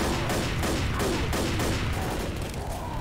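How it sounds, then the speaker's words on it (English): Rapid pistol fire rings out in the video game Left 4 Dead, a dense run of sharp gunshots in quick succession over a continuous wash of game noise. "I'm shooting him with pistols"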